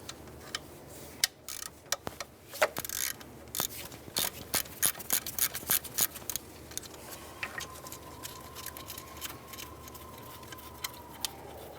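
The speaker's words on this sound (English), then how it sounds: "Using a 13mm socket in your ratchet, go ahead and remove this bolt." Ratchet clicks and metallic ticks from a 13mm socket and ratchet working an alternator bolt loose on a 2005-2007 Jeep Liberty, a close series of sharp irregular clicks and scrapes with brief pauses and no talking.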